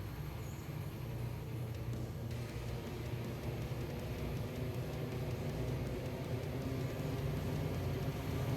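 A coal train rolling along in the railroad video game Railroader, a steady, dense rumble and hiss of wheels on track that stays constant throughout, with no talking.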